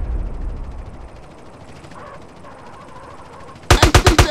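Gunfire in GTA San Andreas: after a stretch of low background noise, a loud burst of about six rapid shots fires in quick rhythm at the very end.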